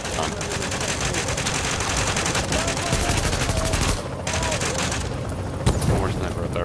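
Sniper and automatic gunfire in the shooter video game Tom Clancy's The Division 2: dense, loud volleys of shots rattle almost continuously, with brief pauses, and a voice comes through under the shooting.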